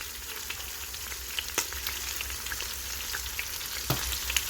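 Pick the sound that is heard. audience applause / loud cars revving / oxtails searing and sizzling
oxtails searing and sizzling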